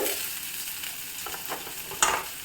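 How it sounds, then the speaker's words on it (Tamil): Onion sizzles steadily in a hot pan, with a soft scrape of stirring and a brief clink of a utensil near the end. "இது வெங்காயம் லேசாக வந்து வதங்கிடுச்சு"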